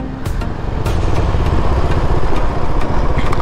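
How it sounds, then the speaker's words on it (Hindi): Husqvarna Vitpilen motorcycle idling at Parkhi Sea Beach, Odisha: a steady, loud low rumble holds throughout, and no one speaks. "ये जो बाइक देख रहे हो, ये बाइक है विटपिलियन, हम लोग का हस्कवर्ना"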